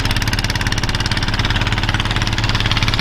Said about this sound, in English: that'll be our tractor over there in use